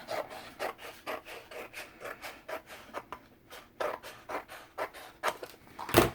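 Paper is trimmed for a binder journal cover, heard as a close series of quick, rhythmic rasping strokes, roughly two or three per second, ending with a sharper final cut.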